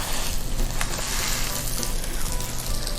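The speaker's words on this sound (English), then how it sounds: "You hear that sear? That is what we're looking for." Food sears hard in a hot pan with butter, a loud, steady, crackling sizzle that fills the whole moment without pause.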